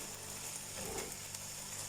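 Chicken goes into a frying pan with chopped capsicum and tomato, giving a steady, close sizzle that swells slightly as the pieces hit the hot oil.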